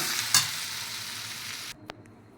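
Ivy gourd chutney ingredients with tamarind sizzle in a hot frying pan while a spoon stirs them briefly; the frying noise stops abruptly, followed by a single clink.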